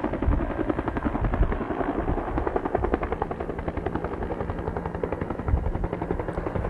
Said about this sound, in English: I'm not a helicopter guy, but I think it's a Bell 212 or a Bell 205.